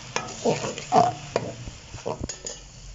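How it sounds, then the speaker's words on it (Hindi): Onions go into hot ghee in a pan for a Pakistani daal mash dish, giving a soft sizzle broken by repeated stirring scrapes and utensil clinks, close and moderately loud, with no talking. "हमारा घी गर्म हो चुका है, अब हम इसमें प्याज डाल देंगे।"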